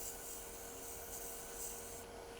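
Spinning wood on a lathe being sanded with 320-grit paper, giving a steady, continuous close-up rubbing hiss with no pauses or talk.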